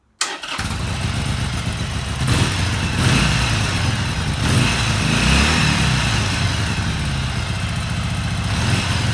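A Harley-Davidson Iron 883 motorcycle cranks and fires up after a brief silence, then runs loud and close with rising revs and a steady rumbling idle throughout.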